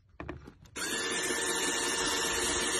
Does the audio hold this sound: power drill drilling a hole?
yes